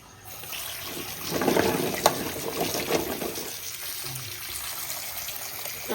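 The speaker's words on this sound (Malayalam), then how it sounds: "ഇത് ഒരു വെള്ളം കഴുകി കളഞ്ഞ് ഇതിക്ക് ഒരു വെള്ളം കൂടെ കഴുകിയെടുക്കാം." Running water rinsing cleaned fish in a kitchen sink for Kerala-style fish curry, a steady close splashing stream that swells midway with a sharp clink of a vessel, no voices.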